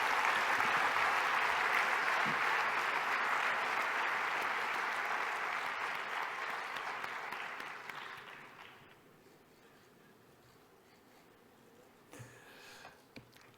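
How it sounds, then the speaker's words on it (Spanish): An audience at an award ceremony claps for a finalist, with sustained, fairly distant applause filling a hall for about eight seconds before it fades out. Faint room noise and a brief thump follow. "Un aplauso para el Colegio El Pilar Maristas de Zaragoza."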